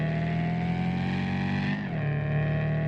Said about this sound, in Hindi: हाइयर आरपीएम पे गाड़ी के आवाज़ काफ़ी ज़्यादा